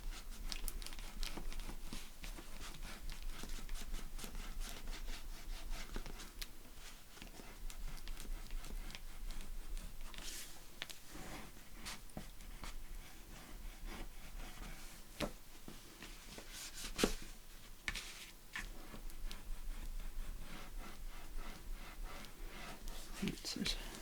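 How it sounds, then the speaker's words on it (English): Paper sides of a handmade mini album being burnished down with steady scratchy rubbing and crinkling, a continuous close rustle running throughout at moderate level. "So let's just burnish the sides down, the ones we've just stuck down."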